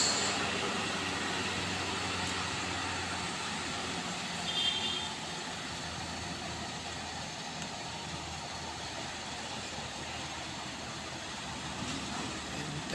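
A Colt Diesel truck engine labours up a steep incline, a steady loud drone with a constant rumble that barely changes, heard alone without voices.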